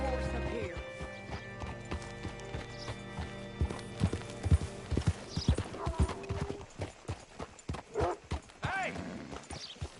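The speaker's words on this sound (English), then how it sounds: "Hitch your horse up here." A horse in Red Dead Redemption 2 clip-clops at a walk on hard ground, the hoofbeats close and rhythmic, with a neigh, game music fading at the start and voices speaking.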